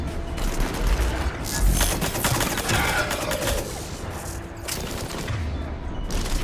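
Gunfire in the Mass Effect 3 video game, with loud rapid bursts and a sustained crackling barrage layered with booms and action noise, near and dense the whole way through.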